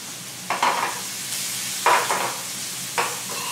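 Chopped onion and celery sizzle in a pan with a steady frying hiss, as three distinct stirring scrapes break in at even intervals, close by.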